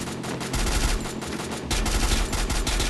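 Rapid gunfire from the Free Fire battle-royale game, shooting at a vehicle: dense, continuous bursts of loud shots filling the whole stretch, with a brief shift in tone midway and no talking.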